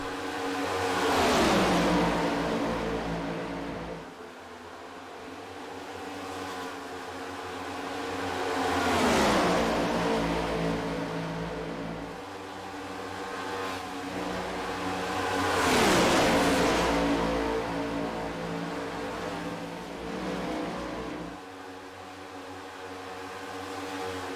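Race cars roar through a lap of the Memorial 125, engines rising and falling in repeated loud pass-bys as the pack sweeps past, with steady engine drone in between.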